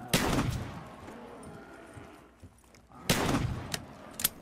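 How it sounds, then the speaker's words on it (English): Two loud, booming shotgun blasts of birdshot, in Call of Duty Black Ops 3 Zombies, come about three seconds apart, with quieter game ambience between them and a smaller sharp crack at the end. "I gotta be shooting birdshot."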